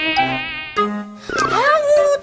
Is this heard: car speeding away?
no